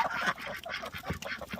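Homestead ducks quack after their bath in fresh water, a rapid run of nasal calls close by, several overlapping in quick succession.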